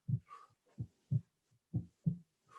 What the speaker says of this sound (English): You can hear my heartbeat.